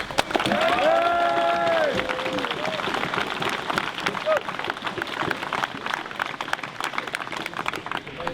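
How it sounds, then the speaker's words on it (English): An outdoor crowd at a Viking reenactment combat event breaks into applause, a dense, even wash of clapping with a brief raised voice and cheering near the start. "give yourself a big applause"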